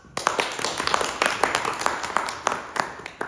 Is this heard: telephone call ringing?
no